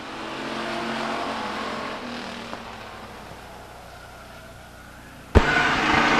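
Stock cars racing side by side down the backstretch at Stockton 99 Speedway, a steady engine roar that fades somewhat before a sudden loud burst near the end.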